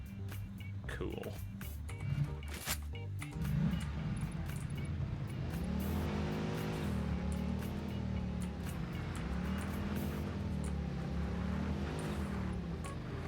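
Car engine in the Satisfactory video game, a steady droning hum with shifting pitch as the vehicle drives along, moderately loud and continuous, with a short burst of other game noise early on.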